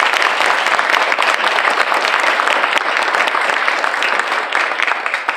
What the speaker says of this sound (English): How about a round of applause for these graduates?